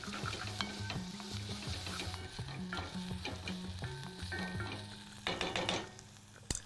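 Lemon zest cooks in oil in a pan and is stirred, with a steady close sizzle and scraping over soft background music.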